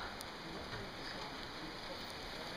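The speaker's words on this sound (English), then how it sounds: "As you can see, it's pouring rain." Steady heavy rain pours at Clinton Hut on the Milford Track, among mountains and waterfalls, hissing continuously, a dense patter of drops on surfaces at an even, unbroken level.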